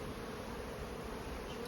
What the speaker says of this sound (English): Put the sugar syrup in, the bees will come up.